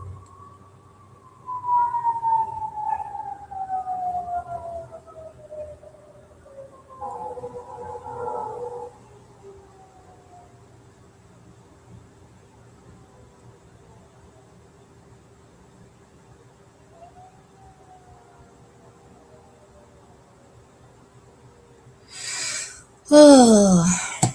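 A siren wails with falling and rising tones, fading in and out, followed by a brief loud burst near the end.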